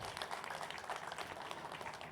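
An audience applauding employees at a PMC team event, a faint, distant patter of many hands clapping steadily and evenly.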